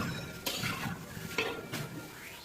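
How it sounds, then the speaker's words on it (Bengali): Chicken pieces fry in a large pot for picnic biryani, a steady sizzle broken by a few scraping stirs and metallic clinks against the pot. "এই যে মাংসগুলো ভাজা হচ্ছে"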